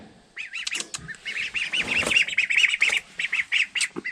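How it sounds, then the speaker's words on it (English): Baby Peking ducklings hatched on a farm peep and quack in rapid, repeated high calls, loud and close, with no voices. "2 little baby ducks that we hatched out. Them are Peking ducks."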